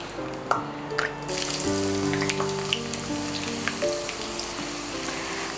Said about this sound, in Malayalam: നമ്മുടെ എണ്ണ നല്ല ചൂടായി കഴിഞ്ഞു. വറുക്കാനുള്ള സവാള,